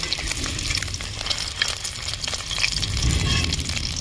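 A bay leaf dropped into hot cooking oil sizzles and crackles close by, with a few light scraping touches over a low background hum, growing slightly fuller toward the end.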